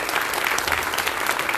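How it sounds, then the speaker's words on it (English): Dense audience applause fills the whole moment at a World Environment Day 2024 event in Goa, steady and loud, with many hands clapping close together and no voices over it. "he really deserves a round of loud applause and a pat on his back"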